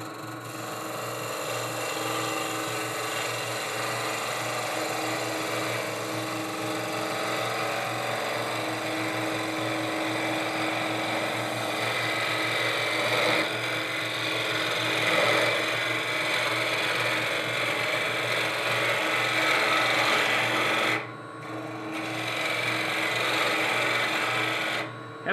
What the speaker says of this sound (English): I think I will probably use a shallow fluted gouge.